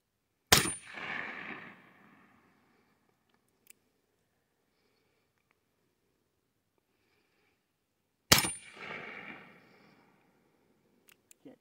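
Two sharp, loud shots from an 1849 Colt .31 caliber black-powder pocket revolver, about eight seconds apart, each a crisp crack followed by a short echoing tail, with quiet between them.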